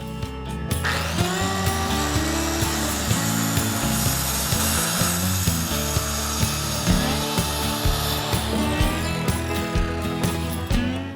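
A saw cuts through 1x12 wooden boards along a clamped-free guide board, giving a steady, loud, continuous grinding whine with a rhythmic pulsing texture that runs unbroken for the whole stretch, with no talking.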